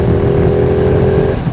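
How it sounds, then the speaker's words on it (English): A Ducati 959 Panigale sport bike engine pulls in top gear at low speed around 4,000 RPM, a loud, close, steady rumbling drone with a sustained tone and rushing wind, with no voices. "the noise the engine makes when you open that throttle, even at low speed"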